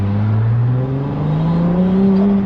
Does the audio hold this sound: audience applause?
no